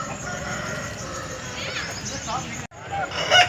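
A rooster crows at a village poultry market, a fairly clear call amid busy background noise and other birds, while someone talks over it.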